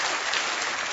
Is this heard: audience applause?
yes